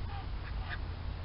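Ducks quack faintly in a barnyard pen shared with a rooster, a couple of brief calls over a low, steady background rumble.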